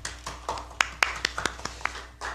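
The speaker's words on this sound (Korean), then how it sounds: "박수 부탁드립니다." A small audience at a political party ceremony claps in a few sparse, sharp handclaps spread over a couple of seconds, nearby and fairly light rather than a full ovation.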